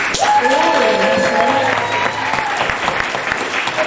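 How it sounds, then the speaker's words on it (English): A school audience claps for a teacher, sustained applause that carries on for several seconds, with some voices and a brief tonal sound mixed in early on. "Give Miss Reynolds a big round of applause."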